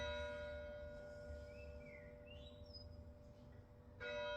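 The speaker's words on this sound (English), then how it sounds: "When that clock stops chiming," A clock chiming in a room during a hatha yoga class: sustained bell-like tones ring steadily throughout, with a louder fresh strike near the end, and no talking.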